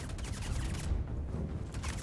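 Dense NPC gunfire in the Star Citizen space game, a continuous rattle of rapid shots at fairly close range with no pause, heard with no talk over it.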